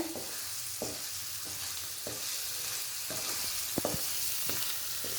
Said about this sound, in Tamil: நல்லா கிண்டி விட்டுட்டே இருங்க